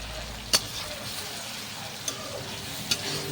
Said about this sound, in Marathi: ह्यामध्ये मी जिरा ॲड केलेला आहे त्या साईडला तेलामध्ये.